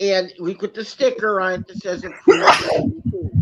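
A single abrupt sneeze bursts out mid-conversation in a store setting, loud and close, with people talking before and after it.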